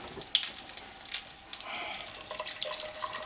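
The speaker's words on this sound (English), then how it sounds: "we're going to add a little bit of water to this" Water is poured into a pan of fresh garlic, a soft trickling splash with light dripping, heard close and fairly quiet.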